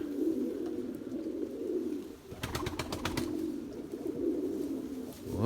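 Soft, low pigeon cooing repeats steadily over a constant wash of rain, with a brief burst of sharper bird sounds midway.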